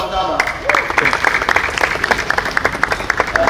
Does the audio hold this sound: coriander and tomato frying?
no